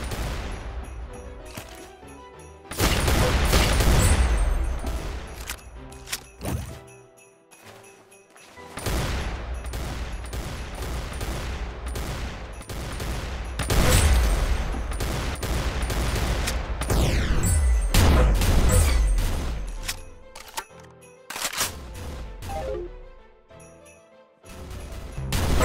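Rapid gunfire and headshots in the mobile shooter game Arsenal, dense repeated bursts of loud shots with brief lulls, sustained throughout.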